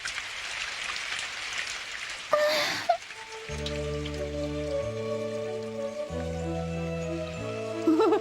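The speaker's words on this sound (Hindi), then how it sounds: "हाँ, बारिश बारिश हो रही है डैड।" Cartoon rainfall patters steadily as a continuous hiss of drops, briefly broken by a short splashy burst before settling again under a repeating musical background.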